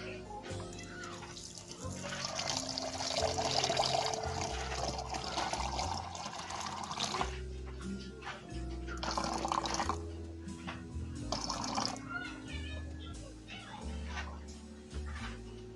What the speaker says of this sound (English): I've added 538 grams of water into my caustic soda